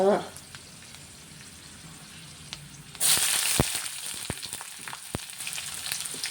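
Onion dropped into hot oil starts a sudden bright sizzle after a quiet start, then keeps frying steadily, with faint crackles and occasional spoon taps against the pan.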